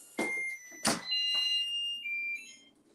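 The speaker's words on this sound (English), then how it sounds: "Not okay, the timer, y'all." A kitchen timer goes off while shrimp cooks, giving a loud, shrill electronic beeping with sustained high tones over about three seconds, with no talking.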